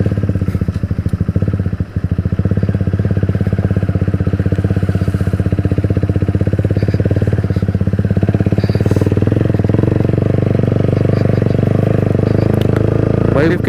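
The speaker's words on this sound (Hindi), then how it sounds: "सिर्फ एग्जॉस्ट का ही मज़ा आ रहा है, क्योंकि जो वो आवाज़ दे रहा है ना यार, बहुत मज़ा आ रहा है उसकी आवाज़ से" A Honda CBR 150 motorcycle with a modified exhaust riding on a rough road under construction, a loud continuous engine drone with a throbbing exhaust note close by, with wind rumble throughout.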